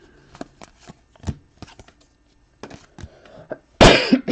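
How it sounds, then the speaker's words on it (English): A few scattered coughs and small handling noises in a quiet room, ending with a sharp, loud cough burst close to the microphone. "I do cough into my elbow"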